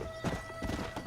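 Horse hooves clip-clop in Red Dead Redemption as a rider heads toward a bridge, a few quick uneven hoof strikes in a short burst, fairly close and moderately loud, with no talking.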